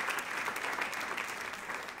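Audience applause fills a church-like gathering, a steady dense wash of many hands clapping at close range throughout, with no talk over it.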